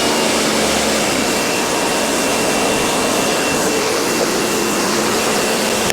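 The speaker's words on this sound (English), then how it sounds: "Pressure washer cam!" A pressure washer blasts water onto a Volvo XC60 in winter, a loud, steady close-up hiss and roar that runs without a break, with no voices.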